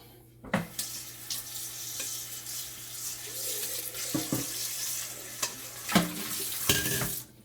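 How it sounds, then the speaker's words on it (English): Water runs from a kitchen tap as a mixing bowl is rinsed out while baking a strawberry cobbler, a steady hiss broken by a few sharp splashes and knocks of the bowl, close by with no talking. "Let me rinse this out."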